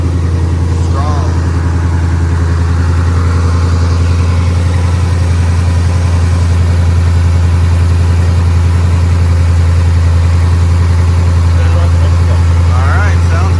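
The engine of a built 2020 Shelby GT500 idles right after a new pulley, idler and tensioner were fitted. It gives a loud, steady low rumble close by, with voices speaking faintly over it.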